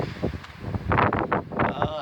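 Gusty wind buffets the microphone in rough, rumbling bursts, loud and close, with no clear voice standing out.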